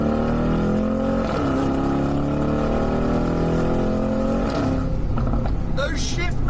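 Mercedes-AMG G63 accelerating hard, a loud close engine roar climbing in pitch through several upshifts, with sharp shift cracks near the end.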